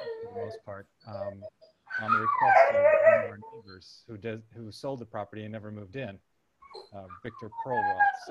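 A dog named Zippity howls in a long, wavering cry that rises and falls, set among steady talking in a meeting, with a second fainter howl near the end.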